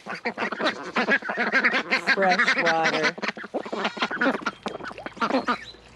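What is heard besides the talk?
ducks quacking while being fed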